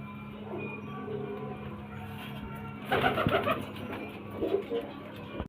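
Pigeons being shown for sale coo softly against a steady background hum, with a louder, busier patch of calls and fluttering sounds midway.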